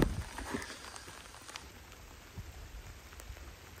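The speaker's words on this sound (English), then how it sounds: "It's starting to rain." Rain begins to fall outdoors on muddy off-grid ground, a faint soft hiss with scattered light drop taps and a few quiet knocks near the start.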